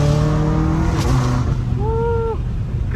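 A BMW M5 Competition with a catless exhaust drives on the street, its loud engine droning close, then shifting pitch as it revs up through a gear change.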